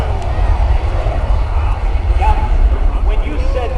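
A USAF C-17 Globemaster III military transport jet takes off during an air show demonstration, its engines giving a steady, loud, low roar under an announcer's commentary.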